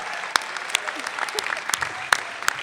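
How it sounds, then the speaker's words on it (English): Graduating class of 2018 applauding at a Five Towns College graduation ceremony, a sustained crackle of many hands clapping with a few sharp louder claps standing out. "Clap for yourselves."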